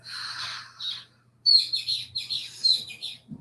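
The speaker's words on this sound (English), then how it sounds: "Do you hear that bird that just started chirping?" Outdoors at a quiet group gathering, a bird sends out quick bursts of bright, high chirps, near and clear, with short pauses between phrases and no talking.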